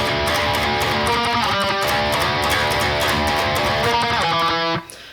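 A second distorted electric guitar part from a song plays a loud, driving metal riff with rapid picked notes. It ends on a ringing chord that is abruptly cut off near the end.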